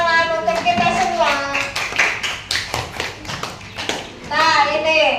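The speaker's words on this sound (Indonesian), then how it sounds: "Benar semuanya, tepuk tangan untuk kita semua." Primary school children in a classroom clap together in a rhythmic, patterned sequence, with an adult and children speaking or chanting over and between the claps.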